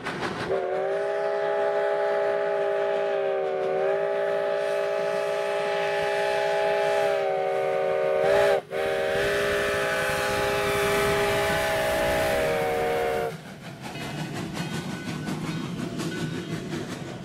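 Virginia & Truckee steam locomotive Number 29 working upgrade near Tank Road, a loud sustained chime whistle blowing for over ten seconds with a short break, then heavy rumbling train running on.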